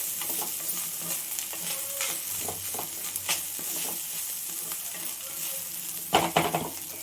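Spoon stirring pepper rice in a frying pan with a soft sizzle, steady scraping and stirring strokes throughout, closing with a louder burst of clatter against the pan near the end.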